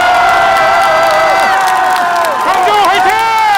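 A large crowd at a political rally in Daejeon cheers and shouts loudly and continuously for candidates, bright sustained whoops and screams rising and falling together.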